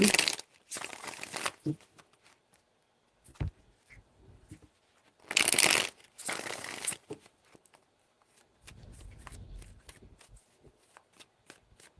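A tarot deck shuffled close by in crisp riffling bursts, two early and two more midway, followed by softer card handling and light tapping; no talk.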